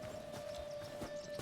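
Hooves of a horse in the video game Hytale clip-clop quietly in a steady walking rhythm over a constant faint tonal hum.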